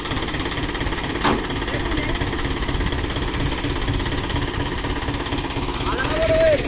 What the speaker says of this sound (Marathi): तर अमोल भाऊ फुल ट्रॅक्टर चालवतो, डेंजर माणूस आहे भाई